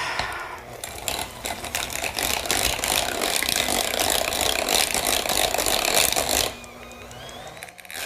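An electric hand mixer whipping coconut cream with maple syrup, a loud close steady motor whine with rattling beaters for about six seconds, then cutting off to near quiet.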